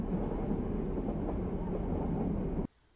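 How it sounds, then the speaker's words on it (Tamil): The Nilgiri Mountain Railway toy train near Ooty rumbles steadily nearby with a broad, continuous roar and faint rattling, then the sound cuts off abruptly near the end. "Welcome to Nilgiri mountain railways, the iconic Ooty toy train."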